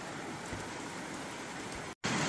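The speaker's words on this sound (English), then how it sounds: "Rain." Heavy rain falls outside a backcountry shelter hut, a dense steady roar of wash that cuts out for a split second and returns, loud and unbroken with no voices.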